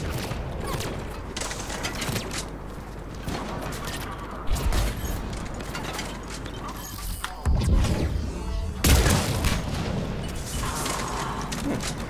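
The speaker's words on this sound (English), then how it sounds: "The sniper rifle is not too bad." Gunfire in a Mass Effect 3 multiplayer demo match, a Mantis sniper rifle among the weapons, with sharp loud shots and crashing impacts over busy battle noise, a few heavier blasts standing out.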